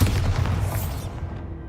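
A Bombarda blasting spell detonates in Hogwarts Legacy, a deep booming explosion with a dense rumbling low end that rolls on and fades over under two seconds, with no talk over it.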